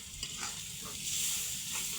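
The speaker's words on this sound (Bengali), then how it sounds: "আবার ডিমগুলা ভেজে নিলাম" Eggs fry in a pan in oil before going into an egg korma, a soft, close sizzle broken by a few light stirring scrapes over two seconds, with no voices.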